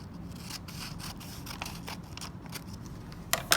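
Scissors snip through a folded paper square from the corner in toward the center, a quick series of close, crisp cuts with a faint rustle of paper between them.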